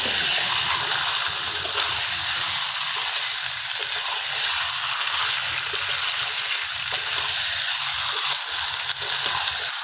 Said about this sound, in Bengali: মাংসটাকে এবার কষিয়ে নেব।